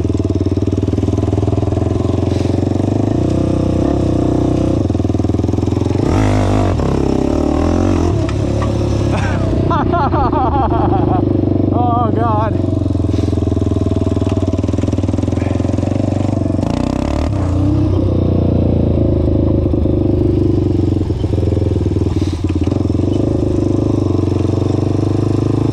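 A Honda 400EX ATV engine running and revving through second gear, a loud continuous close-up drone with rising and falling throttle, while people talk over it.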